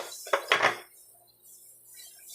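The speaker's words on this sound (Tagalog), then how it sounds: "I-mix natin ng mabuti." Utensil scraping and knocking in a bowl while cassava mixture is worked together with butter for rolled cassava suman, two quick clattering strokes close up, then quiet.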